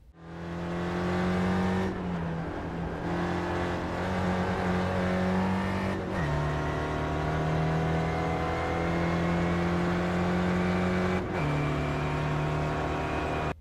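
Spectator Racing Formula car engine lapping Spa-Francorchamps in iRacing, a loud steady drone at full power with two clear upshifts dropping the pitch, continuous and close with no talk.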